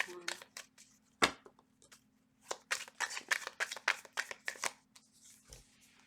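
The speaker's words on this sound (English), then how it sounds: "Two more shuffles." Tarot cards are shuffled by hand in a run of crisp, uneven riffles and slaps, close and fairly loud, over a faint steady hum with a brief voice near the start.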